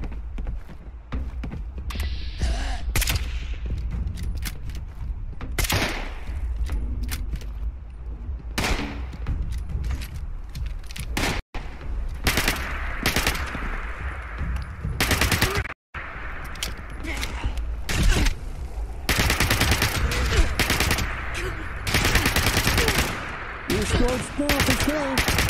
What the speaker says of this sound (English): Where the fuck is shooting?